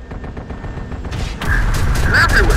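Enemy gunfire in Terminator Dark Fate Defiance, quieter rapid shots at first, then a loud continuous fusillade of automatic fire with sharp metallic impacts, fairly close.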